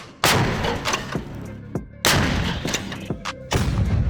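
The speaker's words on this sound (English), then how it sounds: "My first shot was from an M777 howitzer." An M777 howitzer fires close by in Ukraine, several loud booming artillery shots spaced about a second or two apart, each with a sharp blast and a rumbling tail.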